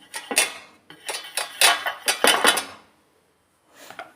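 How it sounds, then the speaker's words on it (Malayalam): Metal plates of an idli steamer clatter and clink as they are handled and set down, a series of sharp, close metallic knocks in quick bursts, then a pause and a softer final clank. "ഇനി നമുക്ക് ഏറ്റവും അടിയിലത്തെ തട്ട് വെച്ച് കൊടുക്കാം."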